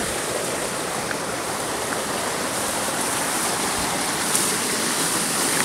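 Steady broadband rush of water flowing from a natural spring or stream, continuous and fairly loud throughout with no voices.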